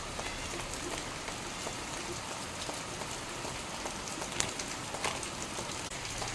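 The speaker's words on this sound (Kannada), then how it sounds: "ನೋಡಿ ಟೀ ಕುಡಿಯುವಾಗ ಮಳೆ ಕೂಡ ಸ್ಟಾರ್ಟ್ ಆಯಿತು." Steady rain falls outdoors in a continuous hiss with scattered louder drops, holding at an even level for several seconds with no talk over it.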